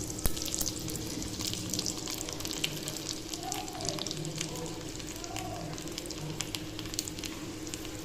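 Garlic sizzling in hot oil with cumin and mustard seeds for a sambar tempering, a steady crackling fizz with scattered sharp pops running for several seconds.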